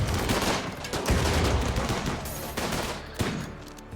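Autocannon fire in the RimWorld video game, with dense, rapid bursts of shots and impacts running continuously at close range, plus a few sharper cracks near the end.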